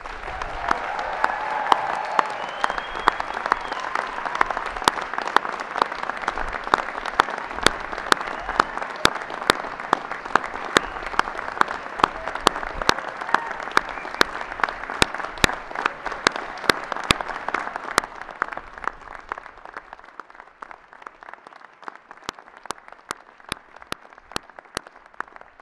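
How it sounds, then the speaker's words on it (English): An audience at a 2012 university convocation ceremony claps steadily for the graduating class. The sound is a dense, continuous wash of applause that thins and fades toward the end, with scattered individual claps remaining. "please join me with your applause and cheers in congratulating the graduates of"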